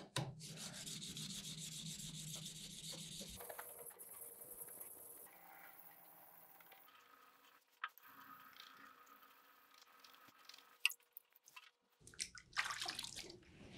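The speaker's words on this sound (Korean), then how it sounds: "이제 이 숫돌로 신나게 연마하시면 돼요" A knife scrapes across a whetstone in quiet rubbing strokes, shifting in texture, with pauses and a few sharp clicks.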